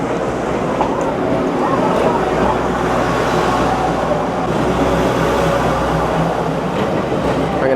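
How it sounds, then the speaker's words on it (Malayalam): A train rumbles steadily past at Shifen, Taiwan, a dense broadband roar and clatter that holds constant throughout, with crowd voices mixed into the noise. "ഇതാ ട്രെയിൻ വരുന്നുണ്ട്."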